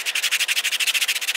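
Slow, rhythmic rubbing on a carved wooden bowl, a steady series of about twenty raspy strokes, close and clear with no talk.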